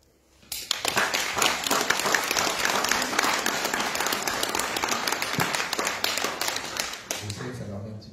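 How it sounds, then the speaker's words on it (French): An audience at a cultural evening gives sustained applause for students who performed musical pieces, a dense wash of clapping that starts abruptly and carries on for several seconds before tapering off. "je souhaiterais qu'on les applaudisse"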